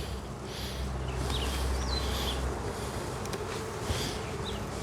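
Honey bees buzz steadily inside an open, somewhat disordered hive during an inspection. The dense droning swarm stays close and continuous, with a few brief higher insect whines passing over it and no talking.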